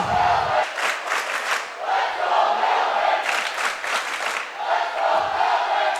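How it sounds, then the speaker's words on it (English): The Milbank student section in a high school volleyball gym chants a cheer in unison, a loud rhythmic group shout rising and falling over crowd noise, with a brief deep voice at the start and end. "You can probably pick up part of a Milbank cheer on this side"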